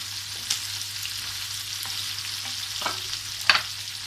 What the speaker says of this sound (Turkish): Son olarak baharatlarımızı ve tuzumuzu ilave ediyoruz. Şöyle bir karıştırıyoruz.